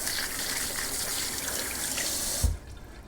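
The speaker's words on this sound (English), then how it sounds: "Now I'll rinse the zucchini off." Tap water gushes steadily from a kitchen faucet while zucchini are rinsed under it, a close, continuous broadband hiss that stops abruptly near the end, leaving a quiet room.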